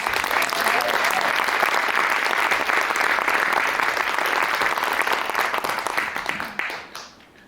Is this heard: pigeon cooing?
no